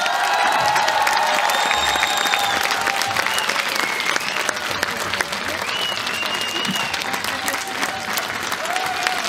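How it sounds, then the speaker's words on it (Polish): Loud, sustained applause from a concert audience, with scattered cheers and whoops, right after a performance by a mining company brass band marking its 75th anniversary; steady clapping fills the whole stretch. "Wielkie brawa, drodzy państwo."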